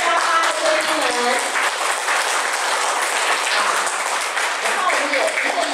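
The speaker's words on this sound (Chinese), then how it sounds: "我们就热烈的掌声来欢迎我们锦绣八八的贵宾们" Guests being welcomed at a community charity event with sustained, dense applause from a crowd, loud and continuous throughout.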